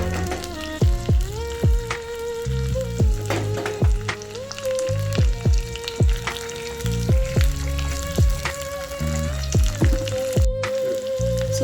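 Mustard seeds, cumin, onion, curry leaves and dried chillies sizzle and crackle in hot ghee for a tempering, with steady frying hiss, sharp popping bursts and occasional stirring, close and loud with no talk.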